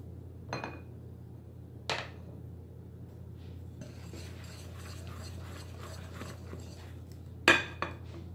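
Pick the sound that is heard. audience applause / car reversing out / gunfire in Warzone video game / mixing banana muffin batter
mixing banana muffin batter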